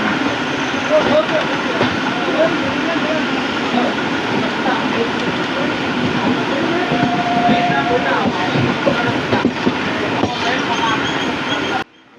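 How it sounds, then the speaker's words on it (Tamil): A passenger train on the Karaikal–Peralam line rolls into Nagapattinam station with a loud, steady rumbling roar and faint rail rattle, voices murmuring beneath, until the noise cuts off abruptly at the end. "இப்போ நம்ம ட்ரெயின் நாகப்பட்டினம் ரீச் ஆகிடுச்சு."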